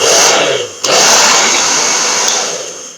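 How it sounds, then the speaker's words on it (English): A hair dryer blows with a loud, steady whooshing roar, dipping for a moment before resuming at full strength. "it's a hairdryer. It's got speed setting and a hot setting."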